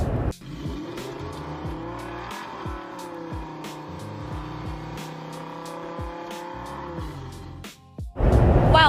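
A 2006 Chevy Silverado pickup's engine hums steadily as the truck is driven slowly, with faint clicks and rattles, before a louder burst of noise at the end.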